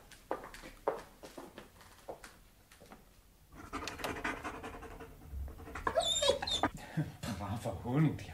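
A dog pants and whimpers close by, with soft yips and rustling movement, under a voice speaking calmly to it in an indoor setting.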